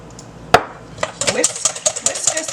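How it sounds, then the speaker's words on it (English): Vanilla being whisked into a bread pudding mixture in a bowl, opening with a sharp clack, then quick rhythmic taps and scrapes of the whisk against the bowl, close and fairly loud. "Whisk, whisk, whisk, whisk, whisk, whisk."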